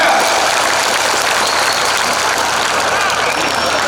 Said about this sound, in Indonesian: Kita berikan tepuk tangan yang meriah buat Ustadz kita.